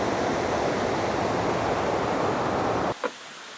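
Water pours steadily at the first tier of Huai Mae Khamin waterfall in Kanchanaburi, a dense, loud, continuous roar that cuts off abruptly near the end, leaving a brief faint sound.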